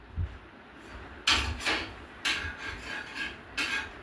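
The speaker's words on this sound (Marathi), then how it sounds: "आता आपल्याला गळा कापून घ्यायचा आहे." Scissors cut the neckline of a Paithani saree blouse in several short, close rasping strokes, with quiet pauses between snips and no talking.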